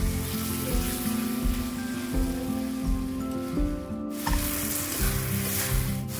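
Spice paste for a mutton curry fries in a pan with a steady, dense sizzle like rain on a surface. A low, pulsing hum runs beneath it, and there is no talking.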